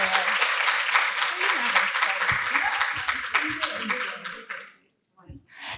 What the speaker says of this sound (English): A wonderful round of applause to these wonderful ladies